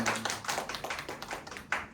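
A small church congregation gathered for a youth worship service claps in congratulation for a teacher, a quiet, close, patchy run of hand claps that thins out toward the end.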